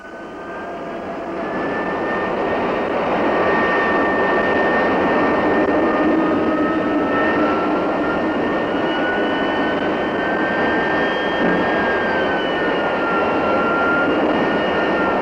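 Lockheed T-33 Shooting Star jet trainer engine running on the flight line, rising from quiet to a loud, sustained roar and whine with steady high tones holding for over ten seconds.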